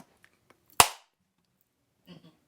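A single sharp hand clap rings out in a quiet basement room, a lone crisp crack with a short tail, followed by faint murmured voices.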